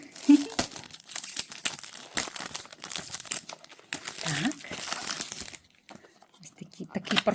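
A package of Mozart chocolates is unwrapped with repeated crinkling and tearing of wrapper foil and paper in short bursts, close up, mixed with someone talking.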